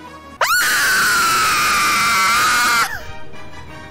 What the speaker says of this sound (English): Do you want me to scream louder?